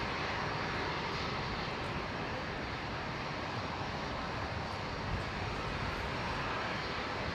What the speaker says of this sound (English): And there's the Jetstar 818 we just caught arriving,